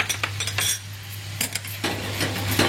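Cooked parwal and potato bhaji stirred in a pan with a metal spoon, close clinks and scrapes against the pan over a low steady hum.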